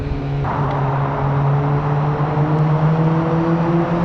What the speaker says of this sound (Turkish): Şimdi bir de buradan dönüş gazlaması.